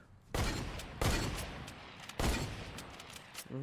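Gunfire in the video game Fortnite: three loud, close bursts of shots about a second apart, each decaying into a rumbling tail.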